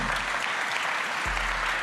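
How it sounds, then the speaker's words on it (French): Live audience applause fills a public broadcast recorded at the Académie du Climat in Paris for the Coop-médias launch, a steady, dense wash of many hands clapping throughout. "vous pouvez d'ailleurs applaudir"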